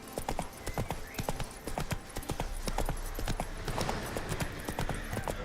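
Geralt's horse Roach from Witcher 3 gallops in a steady, loud run of hoofbeats, a rapid clip-clop rhythm that carries on unbroken throughout.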